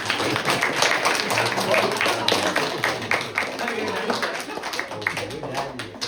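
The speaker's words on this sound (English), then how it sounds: "big round of applause to Ravi garu" A group at a running and training session gives Ravi a round of applause, dense overlapping claps filling the room at moderate loudness, with voices mixed in underneath.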